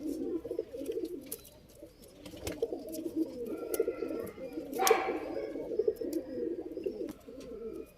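Pigeons in a loft coo continuously in low, throaty rolls, close and moderately loud, with faint flutters and a brief scuffle midway, with no talking.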